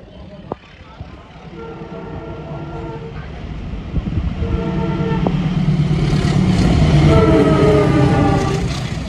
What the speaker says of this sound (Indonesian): itu kereta Logawanya akan segera melintas